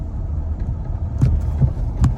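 Road traffic idles and creeps in a traffic jam, a low continuous engine rumble with a few soft thumps, heard close without voices.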